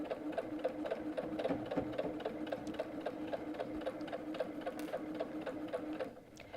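A sewing machine stitches through quilt fabric in a rapid, even run of needle strokes, close and quiet, with no voices.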